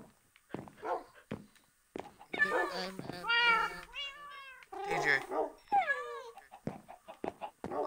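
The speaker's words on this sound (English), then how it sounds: "Oh dear, my doggies are whining." Minecraft dogs whine in a cluster of high, wavering cries amid cat-like meows, fairly close, with clicks between; a voice briefly speaks.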